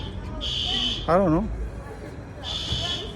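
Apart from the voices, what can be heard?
alarm going off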